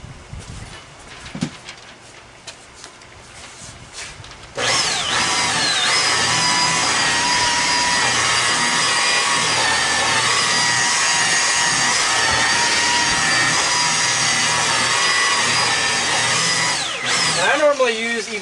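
A rotary polisher buffing factory car paint at about 1,000 RPM whirs loud and steady close by, starting suddenly after a quieter stretch of handling noises and running on without a break.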